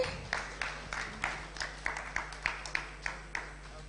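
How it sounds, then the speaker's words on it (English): Sparse, rhythmic clapping from an audience at a business executive breakfast meeting, roughly a dozen distinct claps at a steady pace and moderate volume. "A round of applause for him."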